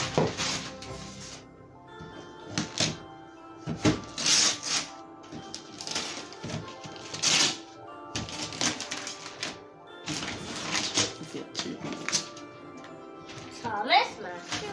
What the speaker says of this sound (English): And now it's time to unwrap.